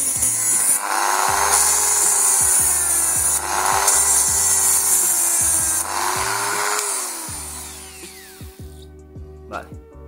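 A power tool repeatedly cuts through a car's plastic air vent on a VW Golf IV, giving rhythmic bursts of high-pitched grinding and rasping that stop near the end, leaving a few small knocks.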